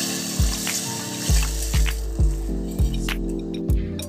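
Water splashes and gurgles into a pot of washed moong dal in several uneven pours, close and fairly loud, with soft sloshing between them.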